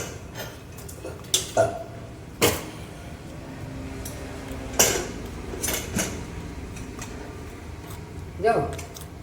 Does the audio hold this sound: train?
no